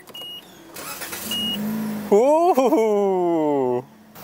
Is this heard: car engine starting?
yes